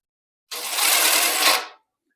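A socket wrench spins a bolt off a rototiller, making one close, buzzing, ratcheting burst that lasts just over a second, with silence before and after.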